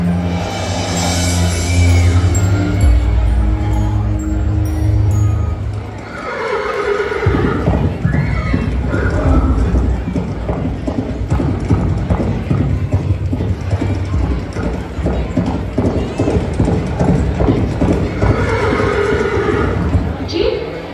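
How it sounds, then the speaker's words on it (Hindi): Staged horse sound effect for a musical Ram Leela stage performance: a loud neigh and whinny opens, then a long run of rhythmic clip-clopping hooves with mechanical rattling, close and dense throughout. "मैंने अश्वमेध यज्ञ का घोड़ा आश्रम के पास उछलते देखा।"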